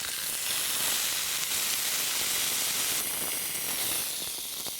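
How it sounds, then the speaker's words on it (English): A porterhouse steak sizzles over a campfire in the Victorian Alps, a loud, continuous bright hiss and crackle close up, with no talk over it. "Sizzling away beautifully."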